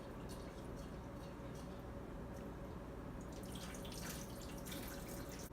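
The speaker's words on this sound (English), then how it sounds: "you don't necessarily have to rinse it until the water runs clear" Water runs steadily from a tap while rice is rinsed, a faint, even hiss with no breaks and slight splashy flickers toward the end, quiet and without voices.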